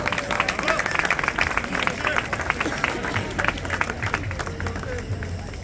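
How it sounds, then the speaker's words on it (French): An audience at the inauguration of an image biennial in Aix-en-Provence applauds the event organizers, scattered clapping mixed with crowd murmur and voices talking underneath. "qu'on peut applaudir"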